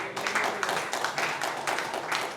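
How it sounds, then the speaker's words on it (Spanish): A church congregation claps for Jesus during a service, steady rhythmic clapping in regular beats, moderately loud and roomy, with a faint voice beneath. "Dele palmas al Señor Jesús."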